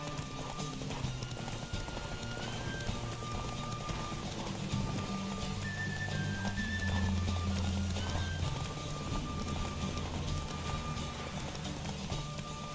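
Horse hooves clip-clop steadily at a gallop in The Witcher 3 video game, a continuous close rhythmic beat with an occasional whinny over game music.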